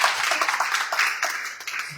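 Church congregation clapping hands together during a worship service, a dense, steady patter of many hands that fills the room for about two seconds.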